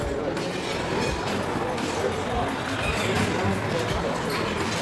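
A train in Prague rumbles past with a continuous rolling clatter of wheels on rails, while people murmur faintly in the background.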